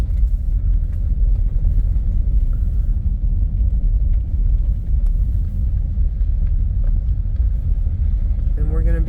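A car rolls slowly along a very rocky, bumpy road with a loud, steady low engine rumble and road noise, and a voice speaks over it.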